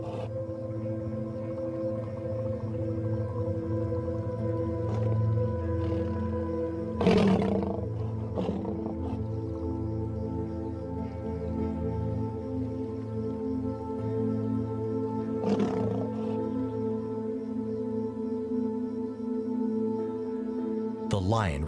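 A young African lion roars repeatedly while facing a Nile crocodile over a kill on land. Deep, rumbling roars swell and fade in a rolling series, with sharper bursts standing out, loud and close against steady outdoor background noise.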